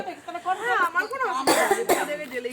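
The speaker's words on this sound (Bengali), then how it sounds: "আমার বারবার কাশি হচ্ছে" A person speaks, then coughs twice in quick succession before talking on.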